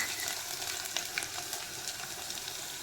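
Curry leaves, green chilies, cloves and garlic sizzle steadily in hot oil for Gujarati kadhi, a continuous bright crackle with a few louder pops, close and alone with no voices.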